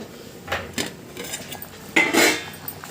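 A lid is set onto a cooking pot of spicy lamb trotter stew (paya), making a few sharp metallic clinks and scrapes close by, with the loudest clatter near the end.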